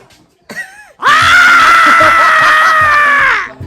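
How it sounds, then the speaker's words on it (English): A person lets out a long, loud, sustained scream on request backstage at a daytime talk show on Halloween, preceded by a brief vocal sound, filling most of the clip. "I want to hear you scream."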